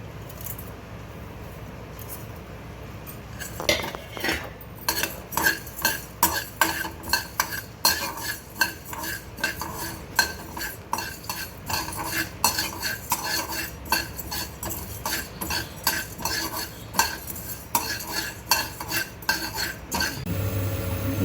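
Spices being stirred and dry-roasted in a pan for a Kannada pepper rasam, a steady run of scraping, clinking spoon strokes with a faint sizzle, close and continuous with no talking.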